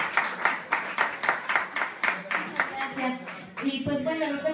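At a contest event, a crowd claps in strong, rhythmic unison for sponsors and coaches, the beats evenly spaced and fairly loud. The clapping fades out and a voice begins talking near the end.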